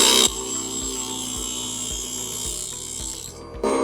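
Mini table saw running at lower RPM while cutting balsa wood, a steady high whine with rhythmic soft thumps about every half second as the wood feeds through, then the motor note rising sharply at the end.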